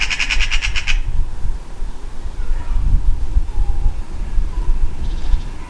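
Magpies squawking loudly nearby, harsh raucous calls in a burst at first, then continuing more faintly with a rough, chattering texture.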